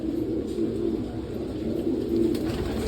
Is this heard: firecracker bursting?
no